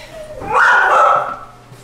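A rescue dog in the back gives a single drawn-out yelping bark, close and fairly loud, rising and then fading over a low background hum.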